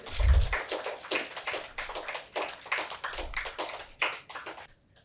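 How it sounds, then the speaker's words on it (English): An audience at an evening talk claps a welcome for a doctor coming to the stage, with scattered, uneven hand claps from a modest crowd that build and then die away near the end. "let's give a huge round of applause for him."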